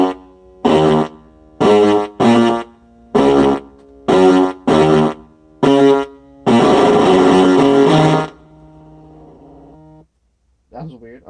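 A circuit-bent Yamaha PSR-31 keyboard plays its Brass 2 tone driven up into buzzy distortion, first as about nine separate stabbed notes, then as one long sustained chord that trails off into a humming decay and a brief final blip.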